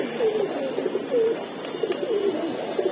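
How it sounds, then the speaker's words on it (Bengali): Khaki pigeons coo close by in repeated low, rolling phrases over a steady background hum, with no talking. "ভাই খাকি কবুতর গুলো খুব হিংস্র"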